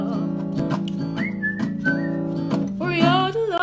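Whistled melody in a children's song, with bright whistled phrases over a sustained accompaniment, close and clear, briefly answered by an instrument or voice near the end.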